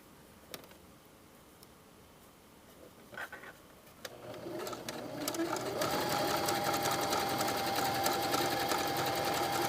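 A sewing machine stitches swimsuit elastic with a double needle, quiet at first with a few soft clicks, then running steadily and loudly from about four seconds on as a continuous whirring drone with a faint whine.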